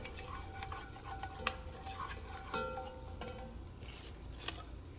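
Garlic sautés in butter while a utensil scrapes and stirs the pan, making faint repeated scraping strokes and light clinks over a soft sizzle.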